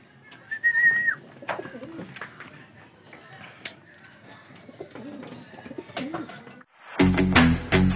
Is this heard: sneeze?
no